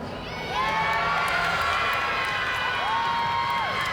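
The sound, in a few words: Iowa State gymnastics team cheering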